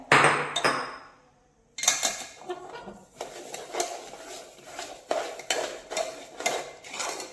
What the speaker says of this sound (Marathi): यामध्ये रवा घालून मिक्स करून ठेवा